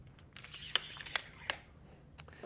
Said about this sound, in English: we want to loosen the bottom 3 clamps here